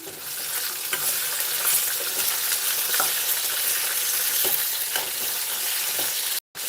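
A spoon stirs softened raw tamarind chutney in a hot pan, scraping and sizzling steadily and loudly, with the stirring strokes repeating about once a second.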